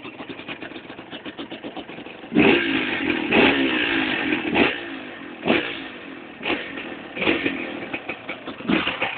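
A motorcycle engine idles with a rapid putter, then revs up in repeated loud bursts, each throttle blip rising and falling close by.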